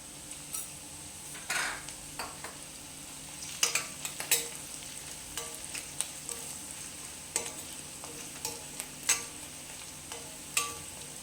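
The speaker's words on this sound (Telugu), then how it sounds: "ఆనియన్ బాగా వేగిపోయినాయి." Onions, green chillies and turmeric fry in a pan with a continuous sizzle, broken by frequent sharp clicks and scrapes of a utensil stirring against the pan. No one speaks.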